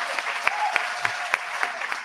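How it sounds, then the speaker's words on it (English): Applause from an audience at an evening book event in Baltimore, heard as a soft, dense wash of clapping with a few sharper individual claps standing out, steady and moderately distant throughout. "So give yourselves another round of applause."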